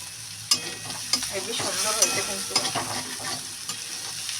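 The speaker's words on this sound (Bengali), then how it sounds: "আজকে কিন্তু আমার মটরশুঁটি ভাজাটা হয়ে গেছে" Green peas frying in a pan while being stirred, a steady sizzle broken by repeated scraping strokes of the spoon, close and fairly loud throughout.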